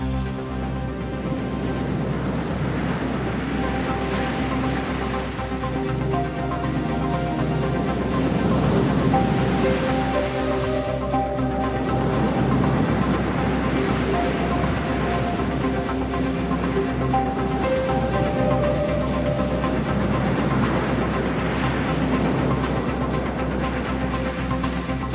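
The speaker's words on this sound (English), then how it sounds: "2 Chinese Coast Guard ships targeted a Philippine boat. They fired water cannons at it." Chinese Coast Guard ships fire water cannons at a Philippine boat at sea. The spray and wind make a continuous loud roar that swells and fades in waves, with no one speaking.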